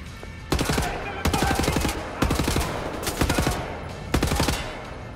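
Rapid automatic gunfire in the first-person shooter Wolfenstein: The New Order, several loud rattling bursts at roughly one-second intervals over a constant low background rumble.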